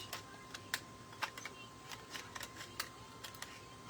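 Scissors snip around a thin aluminum Dollar Tree pizza pan, giving quiet, irregular crisp clicks and small metallic cuts at close range, with no voices.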